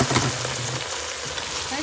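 Fresh garlic is dropped into a pan of frying mushrooms, giving a brief, close, bright crackling sizzle that fills the moment it lands.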